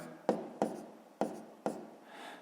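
Handwriting out a fifth-grade math solution with pen on paper: four distinct close scratchy strokes, each a sharp onset fading into a short scrawl, quiet otherwise.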